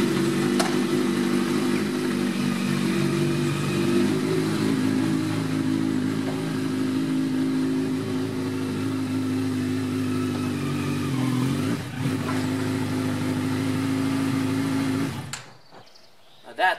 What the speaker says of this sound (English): So now I am gonna ride my bike on this trailer